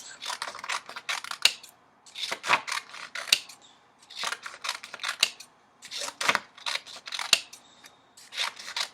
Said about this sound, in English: So the first thing you're going to do is you're going to take your colorful pieces of paper, and we are going to cut them.